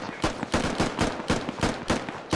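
Rapid gunfire in the Squad video game, about eight loud sharp shots in a steady rhythm close by.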